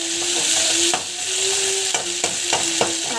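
Salted vegetables sautéing in a pan make a continuous loud sizzle, broken by several scraping stirs and a faint steady hum underneath, with no talking.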